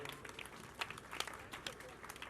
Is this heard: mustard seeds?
no